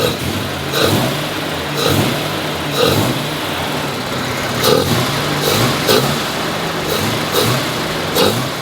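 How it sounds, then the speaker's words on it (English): A Mazda RX-7 FB rotary engine fitted with an aftermarket intake is revved repeatedly from idle, short throttle blips rising and falling roughly every second, loud and close with a raspy induction sound. "So if I give the car a couple revs"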